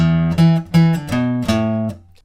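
A distorted electric guitar plays a variation of the riff from a song, several sustained chords struck in a steady rhythm, loud and close, ringing out alone at the end.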